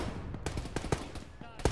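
Rapid bursts of close gunfire from a military video game, several sharp shots in quick succession with a brief lull midway and a final loud crack.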